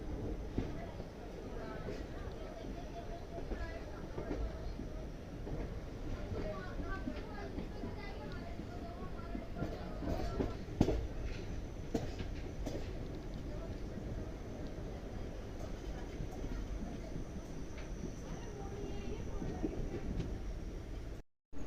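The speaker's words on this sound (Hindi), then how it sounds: "train is arriving" The Naini Janshatabdi Express rolls into Haldwani railway station, a low rumbling train noise with scattered clanks that runs steadily throughout beneath a fairly faint background, with voices talking over it.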